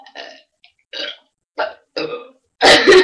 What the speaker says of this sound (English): can burp really, really loud